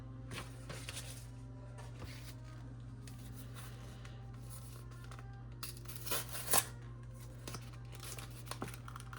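A trading card pack is torn open by hand, giving short crinkly ripping bursts over a steady low electrical hum. The loudest tearing comes in a cluster near the end.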